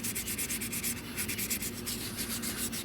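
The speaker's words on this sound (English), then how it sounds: "If you use a real fine grit, I really feel like it really won't even scratch up the rim." Rust is sanded off a wheel rim by hand with fine 600 grit sandpaper, giving a close rhythmic scratchy rubbing in quick back-and-forth strokes with no talking.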